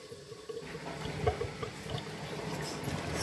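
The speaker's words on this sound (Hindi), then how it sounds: "ये मैं पालक धो रही हूँ अभी" Spinach is swished and rinsed in water, making soft, continuous splashing and trickling close by, with a few small sloshes and no talk.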